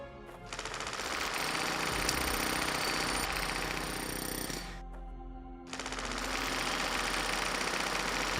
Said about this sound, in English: I'm sure everyone is enjoying the therapeutic sound of this drill